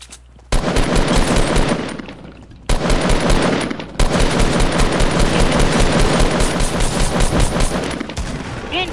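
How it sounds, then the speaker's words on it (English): Shotgun and assault rifle fire in Fortnite, long loud sustained bursts of rapid shots broken by two short pauses, close and dense with no talking. "First, I'ma shoot both of them with a shotgun."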